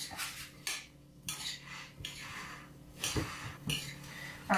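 A utensil mixes chopped vegetables in a bowl for a veggie crescent roll pizza, making quiet irregular clinks and scrapes that come in short bursts with pauses between them.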